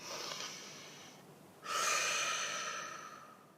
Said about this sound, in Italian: facciamo un bel respiro profondo